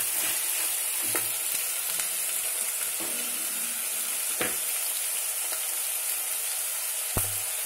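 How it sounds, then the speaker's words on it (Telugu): Broad beans fry in a pan with a steady, even sizzle of oil throughout, punctuated by a few light knocks and scrapes of stirring. "ఇవి కూడా కొంచెం ఇలా వేయించుకొని బాగుంటుంది, వేడుతున్నాయి."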